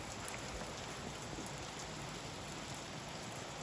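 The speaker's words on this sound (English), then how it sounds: "Here's one of the many short interludes for the rain that we've had through the week." Steady rain falls on a surface in an outdoor setting, a constant soft hiss of drops at moderate distance, with no voices present.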